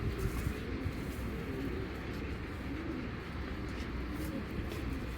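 Giribaz pigeons coo in low, repeated rolling calls close by, over a steady background hum from a pigeon loft.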